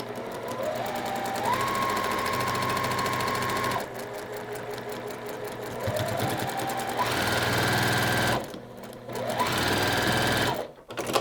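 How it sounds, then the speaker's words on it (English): Quilt squares are pieced on a sewing machine that runs in steady bursts of fast mechanical whirring, pausing briefly between runs, close and fairly loud. "so sew that together for me so we can show how that will turn out"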